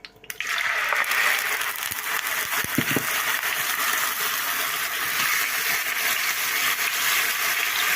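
Carrots and onion fry in heated oil, a steady bright sizzle that starts abruptly and holds loud and close, with a few faint clinks of stirring midway.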